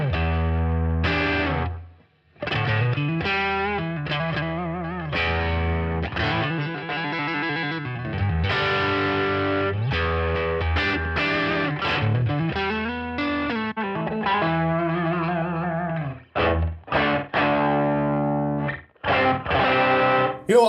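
An electric guitar through a Zoom G3Xn multi-effects unit plays a riff with heavy distortion and chorus. The notes are loud, sustained and bending, with two short breaks near the two-second mark and again around sixteen seconds, and no voices.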